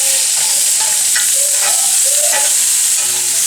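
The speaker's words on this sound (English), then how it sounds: "Pork chops have been cooking for about 4 minutes on one side." Miso butter pork chops sear loudly in a hot pan, a dense, close, continuous sizzle with faint tonal squeaks and scrapes running through it, and no talking.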